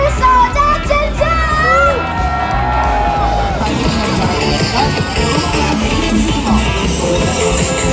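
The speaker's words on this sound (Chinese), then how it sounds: "尖叫声在哪里就送哪里，1、2、3，尖叫声！" A dense festival crowd at the Dajia Mazu pilgrimage procession yells, whoops and cheers continuously, loud and close, with voices shouting over a constant roar of people throughout.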